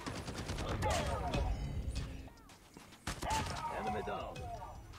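KRM shotgun hip-fire blasts in Call of Duty Mobile ring out as loud, rapid repeated booms in two bursts, with game sounds around them and a voice talking over the shots.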